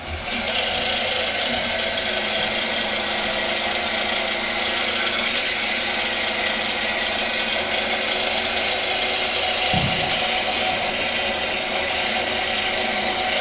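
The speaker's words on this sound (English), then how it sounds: "So we're ready to rewind here, the clutch in the slip position." A winch rewinds a probe line with its clutch in the slip position, a steady loud motorized whine and hum running unbroken throughout, with a faint thump partway.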